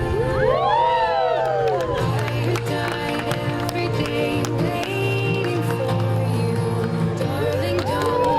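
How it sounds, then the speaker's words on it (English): Wedding guests at a reception cheer and whoop together, a loud continuous crowd roar with shouts and high yells rising over music-like tones, lasting throughout. "You can cheer anytime now."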